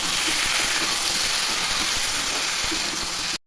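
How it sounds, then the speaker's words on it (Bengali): Potatoes fry in a pan with salt, chili, ginger and cumin, giving a loud, dense, steady sizzle with faint crackles throughout, close and with no talk. "এর সঙ্গে আবার ভালো করে ভেজে নেবো।"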